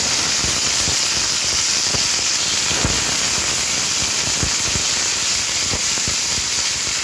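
Beetroot and potato pieces hit hot oil in a pan for a vegetarian beet curry, producing a loud, continuous sizzle and hiss with scattered crackles and pops throughout.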